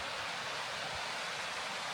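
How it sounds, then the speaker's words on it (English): A big waterfall pours down a forested drop-off, heard as a steady, even roar of rushing water with no other sounds. "Big waterfall running all the way down."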